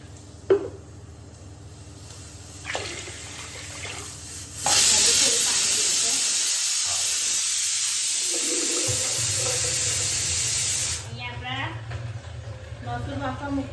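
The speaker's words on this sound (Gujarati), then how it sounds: "હવે આપણે એમાં પાણી એડ કરીશું." Water runs steadily into a pot of twice-washed rice for about six seconds, a loud continuous broadband splash and hiss with faint kitchen sounds before and after.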